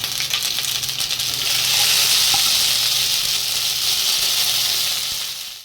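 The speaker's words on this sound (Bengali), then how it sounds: "আদা বাটাটা ভালো করে আমি ভেজে নেবো" Ginger paste frying in a pan with whole spices for a Gobindobhog rice pulao, a loud, steady hissing sizzle with faint stirring scrapes, continuous and close throughout, fading slightly at the end.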